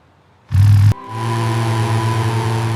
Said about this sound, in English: Engine on. Siren activated.